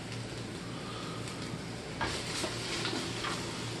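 Sausage and onions browning in a pan give a steady, close sizzle, with brief scraping stir sounds partway through and no talking.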